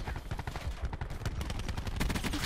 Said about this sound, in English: Damn, these SMGs feel like a new weapon, dude.